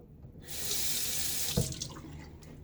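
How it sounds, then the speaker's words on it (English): A safety razor is rinsed under a running bathroom tap: the water starts abruptly and rushes steadily into the sink, close and fairly loud, with a small knock partway through and no speech. "Rinsing out, venting my razor there with some space and air"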